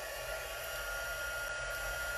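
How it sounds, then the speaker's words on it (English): A heat embossing tool blows continuously with a steady, loud hiss and low motor hum, close by and unchanging throughout. "So we're gonna get our heating tool and we're gonna heat emboss that."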